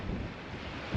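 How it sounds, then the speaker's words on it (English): Strong wind buffets the microphone outdoors on a sunny, hot afternoon, a steady close rumble of low gusting noise that fills the whole short moment. "It is very windy at the moment."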